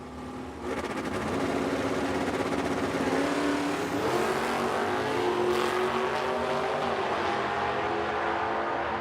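An '89 Mustang and a Camaro drag racing at the Oil City Classic in Edmonton launch together: after a quiet start, a loud engine roar jumps in and holds, revving and rising in pitch as the cars pull away.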